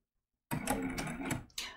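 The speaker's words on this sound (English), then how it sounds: "I'm just going to sew a couple of different pieces and then we'll slow down" A sewing machine stitches appliqué pieces onto a shirt in short bursts, a near, rapid mechanical whirring that starts abruptly, runs about a second, pauses briefly and resumes.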